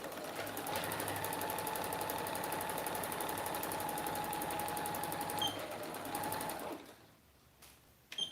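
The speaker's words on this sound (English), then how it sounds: "always remember to backstitch every time you're going along" A sewing machine stitches a raglan seam with backstitching, running steadily at close range for about seven seconds before stopping, leaving a quiet room with a few faint clicks.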